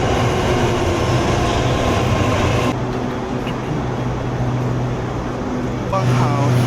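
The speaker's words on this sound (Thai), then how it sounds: "รถไฟมาแล้วทุกคน" A train pulls into a station at Don Mueang in Bangkok, a loud steady rumble of rail cars with a clattering wheel-on-track texture that eases slightly partway through before the roar swells again.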